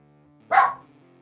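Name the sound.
dog barking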